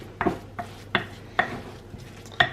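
Cauliflower pizza base dough mixed in a bowl, heard as a series of about six sharp clinks and scrapes of a utensil against the bowl at a brisk, uneven rhythm, close up, with no talking.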